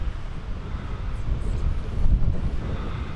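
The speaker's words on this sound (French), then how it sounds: "Oh, il y a vraiment beaucoup de vent." Strong wind roars steadily into the microphone while a drone is flown outdoors, a dense low buffeting rumble that swells slightly partway through.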